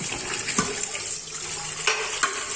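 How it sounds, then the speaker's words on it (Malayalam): Water from a tap splashes into a sink and over an ice-frozen block in a container. It makes a continuous close gushing rush, with a few brief clatters and knocks. "ഇനി നമുക്ക് ഇതിൻ്റെ പുറത്തേക്ക് കുറച്ച് വെള്ളം ഒഴിച്ചു കൊടുക്കാം."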